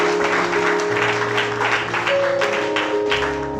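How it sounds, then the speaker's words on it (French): Church congregation clapping together at a deliverance worship service, a steady dense wash of many hands under sustained organ-like tones, with no gaps across the few seconds. "I will clap for the glory of God."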